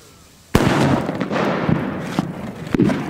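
Firecrackers burst during a fireworks display, starting with a sudden loud bang followed by a rapid, crackling series of sharp pops and smaller reports close by.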